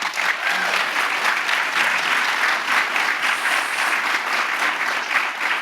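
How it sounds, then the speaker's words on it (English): Lecture audience giving the panelists a round of applause, a steady, even roar of many hands clapping that holds at full strength without pause. "Big round of applause for our panelists"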